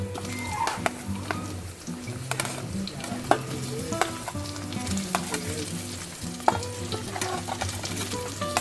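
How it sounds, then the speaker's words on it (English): Chunky onions sizzle in a hot pan for a Filipino-style ratatouille, a continuous crackling fry broken by the clack and scrape of stirring. A low tonal hum runs underneath. "And now we're going to add the onions."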